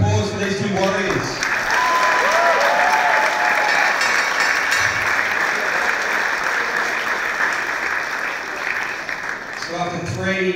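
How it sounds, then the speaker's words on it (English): Sustained crowd applause at an amateur MMA fight night after three rounds go to a decision, loud and continuous with a few cheers and whistles, talk from the ring announcer at the start and end. "applause for these two warriors"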